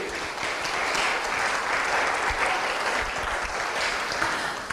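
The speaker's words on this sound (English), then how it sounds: "Clap for yourselves too." An audience at a 2024 girls' summit session claps steadily for itself, dense applause holding at an even level for several seconds with no voices on top.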